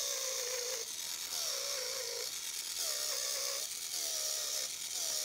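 A Gel Touch electric nail buffer whirs in short repeated passes over a fingernail, a faint high motor whine that rises and drops about four times with brief pauses between.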